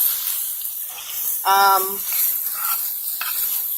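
Shrimp frying in a hot pan as it is stirred, a steady bright sizzle with scraping stir sounds and a short clattering burst midway.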